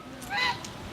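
A voice imitates a goose honk in a single short, nasal, rising-and-falling call about half a second long, fairly close and quiet, with no other talk.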